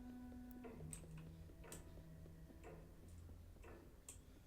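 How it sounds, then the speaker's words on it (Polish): A clock ticks steadily inside a video game, a quiet, regular tick-tock repeating evenly throughout with faint soft game ambience underneath. "Niefortunny zegar, ok."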